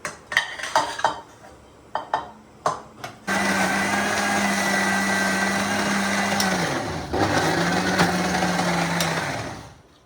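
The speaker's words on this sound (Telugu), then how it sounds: "ఈ మిశ్రమాన్ని మనం ఇప్పుడు మిక్సీలో వేసుకొని" A few clinks and knocks, then a mixer grinder grinding mint, coriander and tomato chutney whirs loudly and steadily, cutting out briefly and starting again before spinning down.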